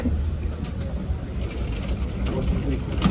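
A rumbling safari truck at Disney's Animal Kingdom idles and rolls along with low engine noise and faint hissing, while a voice talks softly over it.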